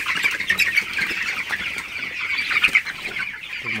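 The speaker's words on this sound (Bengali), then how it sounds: "মুরগিগুলো পানি খাইতেছে।" Broiler chickens in a shed at night cluck and squawk continuously while drinking water, a busy, close chorus of overlapping calls.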